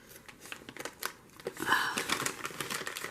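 Paper from a stapled paper pad is handled and pulled close by, making soft crinkles and brief tearing rustles in an irregular series.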